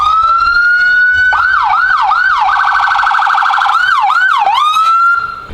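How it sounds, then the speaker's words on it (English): A loud police siren sounds up close, shifting between a steady wail, rapid yelping warbles and sweeping tones before cutting off abruptly. "Let's see what else we got in there with the Sirens."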